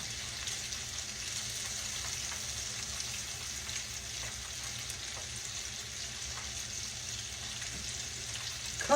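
Catfish nuggets and mushrooms fry in hot grease, giving a steady, even sizzle and crackle that carries on without a break.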